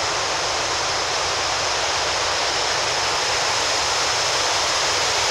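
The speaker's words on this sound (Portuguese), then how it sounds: "Olha a força da água aqui." Strong rushing water at a waterfall, a loud, dense, continuous roar that fills the clip, close by and steady with no pauses or other sounds on top.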